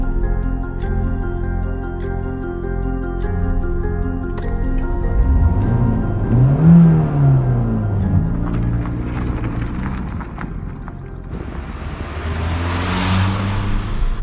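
Ford Focus ST TDCi diesel engine heard from inside the cabin: a smooth low drone rises and falls with the revs, with a quick surge in the middle, and fast ticking runs alongside. No one speaks.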